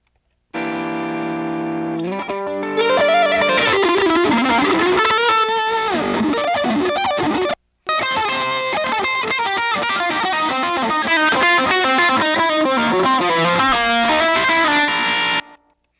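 A distorted electric guitar plays a sustained lead line with bends and held notes, drenched in delay and echo, with a brief break midway.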